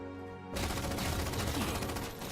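The SAW machine gun in Halo fires a sustained burst of rapid automatic fire that starts abruptly and runs loud and dense for about two seconds, with no talking over it.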